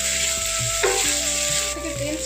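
A spice masala with Kashmiri chili powder, cooked down until the oil separates for an elephant foot yam and paneer curry, crackles in hot oil with a few clinks and scrapes of a spoon, close up and without speech.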